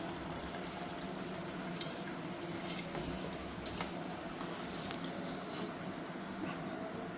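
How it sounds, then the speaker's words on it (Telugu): Rice is tipped slowly into boiling water in a pot for veg biryani, making a soft, continuous watery rush and bubbling that stays faint and even throughout. "ఇప్పుడు బియ్యం అనేది మెల్లగా వేసుకుందాం."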